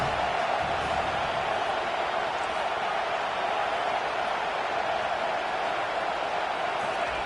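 Stadium crowd noise in an NCAA football video game, a dense, steady roar of fans holding an even level throughout with no breaks.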